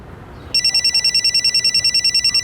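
A telephone starts ringing after a brief quiet moment, a loud electronic trill that pulses rapidly and evenly and keeps going without a break.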